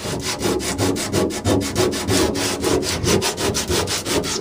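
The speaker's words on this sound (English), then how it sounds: "Just a quick sanding down." Rhythmic back-and-forth scratching of sandpaper, close up and steady, around four strokes per second, with no talking, during rust repair on a 1966 Ford Thunderbird.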